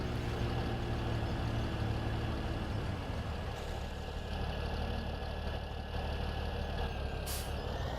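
Truck engine idling in Farming Simulator 17, a low steady rumble that changes tone partway through, with a brief burst of air-brake hiss near the end.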